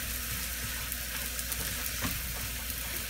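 Sausages frying in a pan, a steady close hiss and crackle of sizzling fat, with a brief scrape of stirring midway through.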